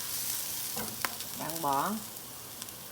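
Chili oil and bún bò Huế seasoning stir-fry in a pot with a steady close sizzle and occasional spoon scrapes, while someone speaks briefly over it.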